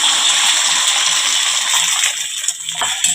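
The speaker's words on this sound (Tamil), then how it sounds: "இப்போ நம்ம கலந்த முட்டையை நம்ம இதில் சேர்த்துக்கலாம்." Beaten egg poured into a little hot oil in a pan sets off a loud, bright, continuous hiss and crackle, close up, alone with no talk.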